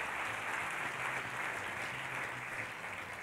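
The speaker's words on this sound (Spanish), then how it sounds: "Dele fuerte el aplauso al Señor." A church congregation gives a round of applause during a service, a faint, distant, steady wash of clapping with a low hum underneath, even in level throughout.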